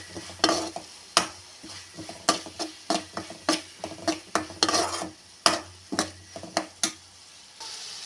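Onions with ginger garlic paste sautéing in a pan for an egg masala curry: a faint sizzle under repeated sharp scrapes and clinks of a spoon stirring against the pan in an irregular rhythm.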